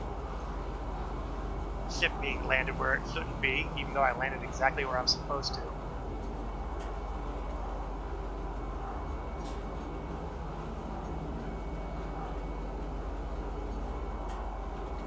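A train runs in the video game Star Citizen, a steady low rumble that continues throughout while someone talks over the first half.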